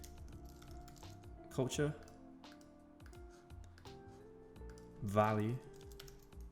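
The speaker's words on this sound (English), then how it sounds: "And actually, I'm going to type this out." Computer keyboard typing, a few soft clustered bursts of quick keystrokes close by, heard in short runs while someone speaks a couple of words in between.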